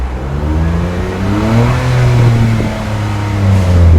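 Mitsubishi Attrage engine revving up against its rev limiter, a loud close buzzing drone whose pitch climbs and holds, bouncing and surging repeatedly with no talk.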